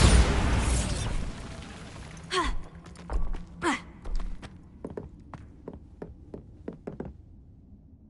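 A Bombarda spell explodes in the video game Hogwarts Legacy. A loud burst opens the sound and decays into rumbling debris, and a few scattered knocks and cracks of falling rubble follow.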